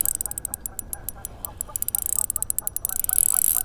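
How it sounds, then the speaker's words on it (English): Male ducks fighting and honking outdoors beside water during float fishing, a run of loud, rapid, irregular honks and squabbling calls that grows busier toward the end. "These ducks, they keep fighting. There's too many males."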